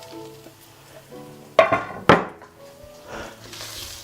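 Salmon goes into a hot pan with butter: two sharp clattering knocks of pan and utensil stand out amid quiet kitchen handling, followed by a faint soft sizzle, with no talk.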